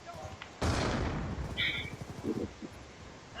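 A distant sniper shot in a video game cracks out as a sudden loud blast, followed by a rumbling tail and some brief game effects.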